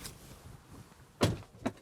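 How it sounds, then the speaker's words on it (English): A Tesla car door shuts with one solid close thud, followed shortly by a smaller knock, recorded up close in a quiet setting. "So just close the door"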